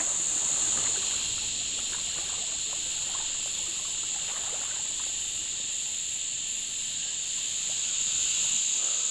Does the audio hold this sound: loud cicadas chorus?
yes